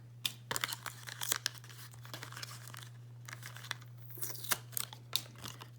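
Cut-out circles are pulled from paper tags, producing close, faint tearing and crinkling paper sounds in scattered short bursts over a steady low hum.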